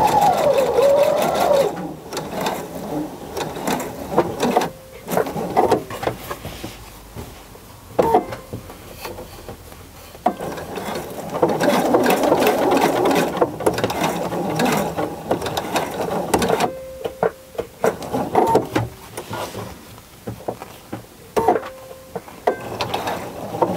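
A sewing machine stitches a seam on a messenger bag, running in long loud mechanical bursts with steady whirring and rattling, broken by short pauses and no talking.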